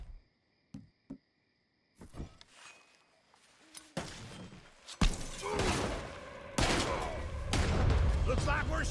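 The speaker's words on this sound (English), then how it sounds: "Looks like we're shooting our way out of here, fellas." A gunfire shootout in Red Dead Redemption 2: a few sharp isolated shots at first, then dense overlapping volleys and crackling bursts build up and keep going loudly to the end.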